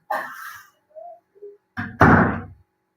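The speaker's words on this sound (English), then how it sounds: "Sorry, I'll close the door." A hotel room door pulled shut, one loud thud near the end after a few faint short sounds.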